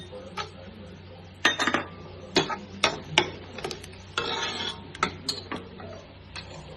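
A spoon stirs spices and three tomatoes in a pot for mutton biryani, giving irregular metallic clinks and scrapes that come in clusters, close and fairly soft against a low background hum.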